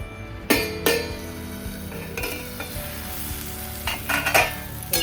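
Potatoes for crispy aloo bhaja sizzle in a pan while being stirred. Clinks and scrapes of a utensil against the pan break in now and then, close up and fairly quiet, with no talk.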